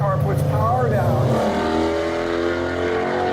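A 2016 Ford Mustang Shelby GT350R accelerates hard out of a corner on a track, its engine note climbing in pitch as it revs up, loud and close, with an excited voice talking over it.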